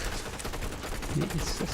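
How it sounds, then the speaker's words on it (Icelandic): Rapid gunfire from Fortnite weapons in a squads tournament match, dense overlapping shots and impacts running continuously at close range beneath game ambience. "standa hér og það er að rigna kúlur á Jonas the Goat, Gumsa og fleiri."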